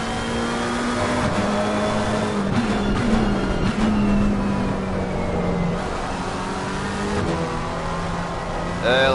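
A GT3 race car in a PS4 racing game, engine droning loud and steady near the listener, with its pitch dropping at gear changes and a quick upshift to second.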